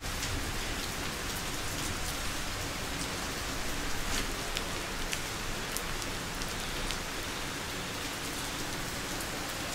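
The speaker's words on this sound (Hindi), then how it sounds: "आज पांचवा दिन है जब से लगातार बारिश हो रही है और ये रुकने का नाम ही नहीं ले रही" Continuous rain pours down steadily and evenly, a dense hiss with scattered close droplet taps throughout, no voices present.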